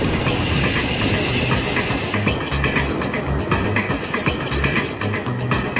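A train rolls along the rails to the new Hong Kong airport terminal with steady rumbling and rhythmic clacks, a high hiss fading out partway through.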